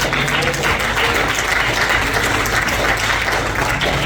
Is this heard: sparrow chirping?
no